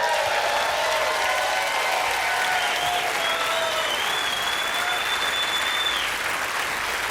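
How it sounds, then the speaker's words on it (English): An audience at a stand-up comedy show claps in loud, sustained, dense applause with a few whistles and cheers mixed in, continuing evenly throughout. "How about a round of applause for her, huh?"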